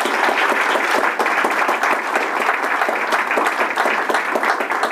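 An audience gives sustained, dense applause during a university president's annual senate address at Villanova University, with steady clapping at close range and no talk.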